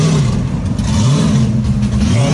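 A drift car's engine revs loudly and close, the pitch rising and falling in quick repeated swells of throttle.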